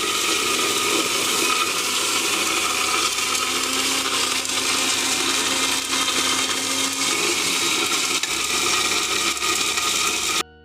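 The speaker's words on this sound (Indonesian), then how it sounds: "masukkan ke blender, beri sedikit air, kemudian di blender hingga halus" A blender grinds cleaned noodle spices with a little water into a smooth paste, a continuous, loud motor whir with a gritty rattle that holds steady for about ten seconds before cutting off abruptly.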